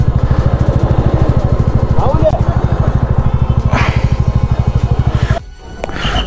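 Motorcycle on a Leh Ladakh trip from Manali to Jispa, idling at Atal Tunnel with a loud, close, rapid regular engine thump that cuts out near the end, under occasional talk.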